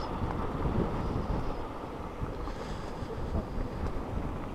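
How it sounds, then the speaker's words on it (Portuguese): Torrent of water pouring out of the Castanhão dam reservoir in Jaguaribara, Ceará, a steady broadband roar with wind buffeting the microphone, constant and fairly loud throughout. "o Castanhão tá soltando muita água"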